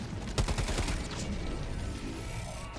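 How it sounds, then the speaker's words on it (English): Autocannon in Helldivers 2 firing in flak mode, a burst of rapid, loud, close shots with sharp bursting reports that give way to a rumbling, echoing tail of explosions. "this is maybe what the autocannon is the best at on flak mode, is just it takes those out so fast and efficiently"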